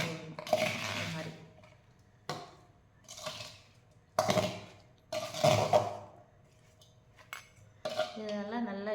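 Fruit pieces are gently stirred in a bowl with a metal spoon, giving a series of clattering, clinking scrapes in uneven bursts, close by, with brief pauses between strokes and a faint voice near the end.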